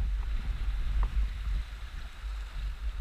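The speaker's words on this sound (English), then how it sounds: "the bigger waves are just from the boats that are going past right now" Passing boats churn the water during a snorkeling outing, heard as a continuous low rumble with washing wave noise and wind buffeting on the microphone, steady and fairly loud throughout.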